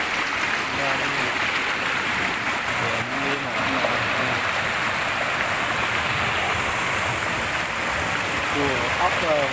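Water rushes steadily over rocks in a forest stream during rain, a continuous broadband wash close by, with a voice speaking over it at moments.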